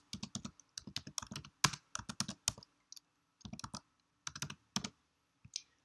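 Quiet close typing on a computer keyboard comes in quick bursts of crisp key clicks with short pauses between them. No voices are heard.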